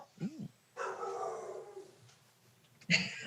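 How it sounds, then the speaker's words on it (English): A dog barks and howls, starting with a short rising howl, then a long drawn-out bark-howl, and ending with a sharp bark, heard at moderate distance during a talk show recording. "I heard the dog. Did you guys hear my dog?"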